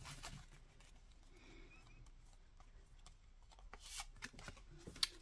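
Tarot cards are shuffled and drawn close by, a soft, quiet patter of riffling with a few sharper snaps toward the end.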